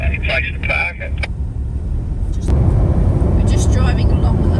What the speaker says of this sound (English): We're just driving along the last bit of the Peninsula Development Road before we hit the dirt after Laura